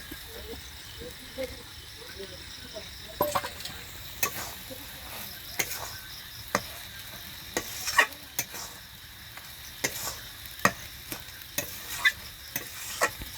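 Egg frying in a pan while cooking village-style dal tadka, a quiet continuous sizzle punctuated by repeated sharp scrapes and taps of stirring at an irregular pace.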